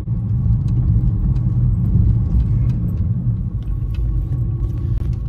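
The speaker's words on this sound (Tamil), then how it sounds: "இந்த இங்கெல்லாம் பயங்கர டிராஃபிக் ஏரியாஸ்" Heavy city traffic in London produces a constant low rumble of car engines, a dense and fairly loud wash of road noise with no distinct passes and no talking.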